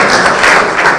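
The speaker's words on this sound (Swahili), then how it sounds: "Now hata mimi mnipigie sasa makofi sababu nimemaliza shughuli yangu." An audience at a Kenyan political gathering breaks into applause, a dense, loud burst of many hands clapping at once that fills the whole short moment.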